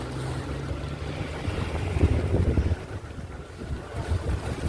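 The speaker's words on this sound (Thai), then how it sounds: "เป็นเรือแคทธรรมลานนะครับ คือสองท้อง" An open-deck twin-hulled catamaran ferry sails toward Koh Kood. Its engine drones low and steadily beneath continuous wind rush and sea noise.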